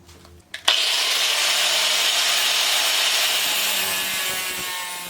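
Power saw cutting short pieces from a wooden bed rail, a loud steady whine that starts abruptly after a brief quiet moment and holds through the cut, tapering slightly at the end.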